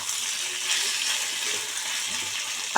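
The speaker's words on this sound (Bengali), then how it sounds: "একটু কষানো হয়ে যাক" Hilsa fish head and taro greens sautéing in a pan, a steady bright sizzle of frying oil with faint stirring scrapes near the end, close and continuous.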